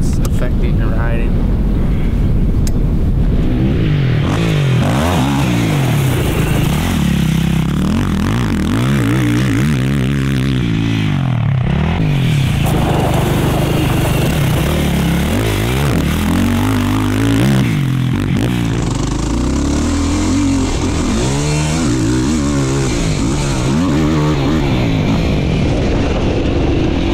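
Quad bikes riding a motocross track with youth riders practising jumps, engines droning loudly and continuously with rising and falling revs as machines pass, buffeted by wind on the microphone and joined by voices talking.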